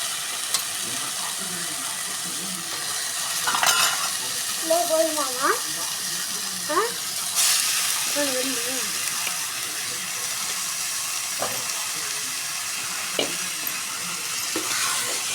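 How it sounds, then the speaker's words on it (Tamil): Chicken being stirred and fried in oil, a steady sizzle with scattered scrapes of a spoon against the pan and a few faint voice-like sounds in the background. "சிக்கன் நல்லா கிண்டி லைட்டாக விடு"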